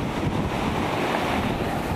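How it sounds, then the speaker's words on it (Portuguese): A large waterfall, Cachoeira da Torre in São Bernardo do Campo, gives a steady, loud, broadband roar of falling water that holds without a break. "Essa cachoeira monstra."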